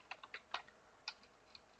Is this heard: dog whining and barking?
no